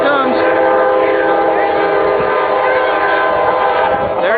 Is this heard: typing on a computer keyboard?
no